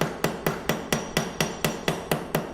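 A 3-pound hammer strikes the flat top of a machinist vise used as an anvil, giving about ten sharp metallic blows in a steady, even rhythm, close and alone without talk.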